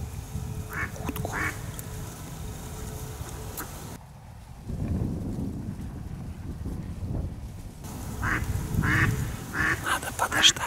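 Several ducks quack in short bursts outdoors, with wind rumbling against the microphone; the quacking fades for a few seconds, then returns.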